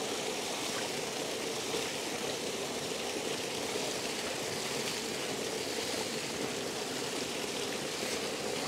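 Water flows and splashes in a small cascade inside a date garden in Madina, making a constant, dense hiss close by with no break and no talking.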